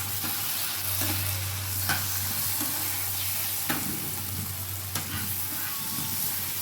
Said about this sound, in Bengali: তারপর আমি সবগুলো ভালো করে কষিয়ে নিচ্ছি।